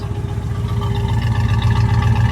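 A 1964 Chevrolet Chevelle Malibu SS engine runs steadily as the car accelerates, with a low, continuous rumble and hum, close by, with no voices.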